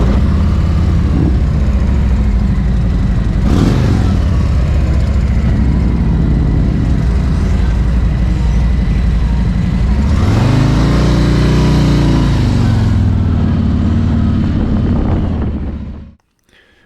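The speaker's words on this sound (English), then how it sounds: "Let's take the Street Glide out for a ride." Harley-Davidson Street Glide motorcycle being ridden, a loud continuous engine rumble under heavy wind noise with pitch rising and falling through gear changes, cutting out abruptly at the end.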